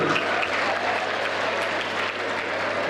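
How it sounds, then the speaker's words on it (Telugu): A crowd of students at an SSC orientation programme in Uppal claps together in a steady, dense burst of applause that holds its level for the whole moment, with no speech over it. "2 చేతులు ఉన్నవాడు మాత్రమే చప్పట్లు కొట్టాడు"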